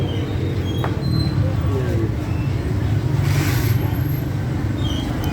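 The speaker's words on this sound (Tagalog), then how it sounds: "yung mga tricycle, mga single motor, tapos mga sakyan, kaya pagkakasabay-sabay maingay" Steady road traffic rumbles throughout, with tricycles, single motorcycles and other vehicles passing together in a continuous loud, dense wash of engine noise and no clear gaps.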